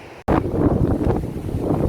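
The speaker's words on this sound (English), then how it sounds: "Oh, it's so windy!" Strong wind buffets the microphone in loud, continuous gusts after a brief cutoff at the start, with a roaring, rushing texture throughout.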